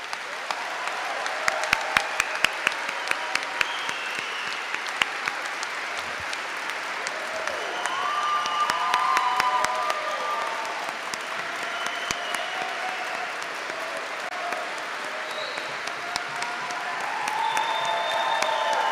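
An audience applauds to welcome Roger Waters onto the stage at a 2017 event in Canada, steady sustained clapping from a large crowd that fills the hall throughout, with faint voices under it.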